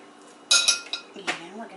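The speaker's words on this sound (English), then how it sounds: "So now we're just going to scoop it out with our spoon." Metal spoon scooping diced avocado out of its shell, giving a few light scraping clinks close by, with a brief voice in the background.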